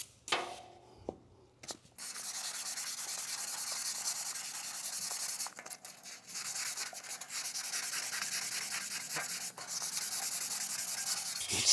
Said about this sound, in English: get all the previous grit scratches out of the surface before I move on to the next grit